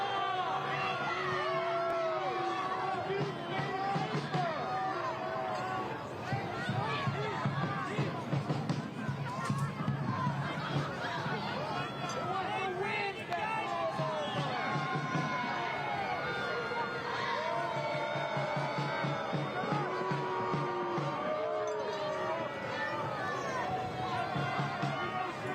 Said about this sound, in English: Crowd absolutely pulsating for this season opener at One Spokane Stadium.